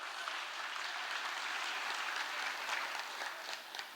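Theatre audience applauding a poet on stage, a dense, steady wash of clapping that holds evenly for several seconds with no talking over it.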